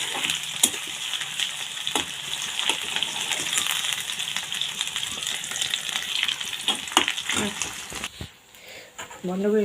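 Onions frying in oil with whole clove, cinnamon, cardamom and bay leaf, a loud continuous sizzle with sharp spatters and stirring scrapes, while voices talk nearby; the sizzle drops away near the end.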